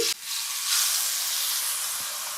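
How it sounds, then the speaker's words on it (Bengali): Marinated fish drops into hot mustard oil and immediately bursts into a loud, close, steady sizzle that continues evenly without any voices. "আমি এই মাছটা সরিষার তেল দিয়ে ফ্রাই করব"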